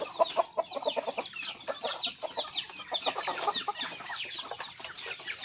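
Native chickens and a tethered rooster cluck and chatter continuously at close range, with overlapping calls and short squawks and no talking.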